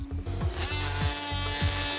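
A power tool cuts open a plaster field jacket around a fossil in a lab, giving a loud, steady whir with rapid rhythmic knocking pulses about every half second, close and continuous with no talk.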